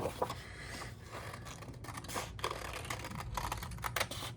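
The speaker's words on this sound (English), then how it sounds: "I'm going to cut the treasures off first here" Scissors snip steadily through printed paper, cutting out small treasure shapes for a seashell bottle craft, a run of close, quiet clicks and crisp cuts over a low background hum.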